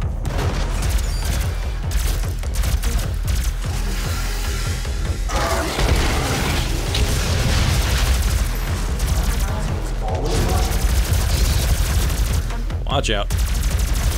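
Rapid automatic gunfire rattles almost continuously from a fast-shooting weapon in the first-person shooter DOOM, loud and close, with booming impacts mixed in and a brief spoken voice over the shooting.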